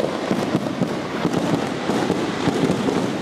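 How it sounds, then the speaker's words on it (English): Fireworks exploding over a town in Taiwan during a town-wide display, a dense, continuous crackle of overlapping bangs and pops coming from every direction, loud and steady throughout with no talking. "you just look over top of buildings and you see just some really amazing fireworks going on every direction"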